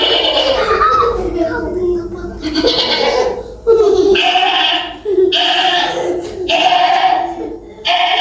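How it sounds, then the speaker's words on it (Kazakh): Several loud goat bleats ring out close by, repeated in bursts with short pauses between them. "Дұрыс, ешкі."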